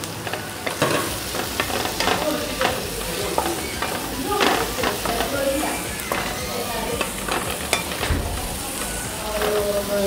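Braised fish with chopped parsley is stirred in a pan, steady sizzling throughout with a run of scraping stir strokes at an irregular rhythm, fairly close.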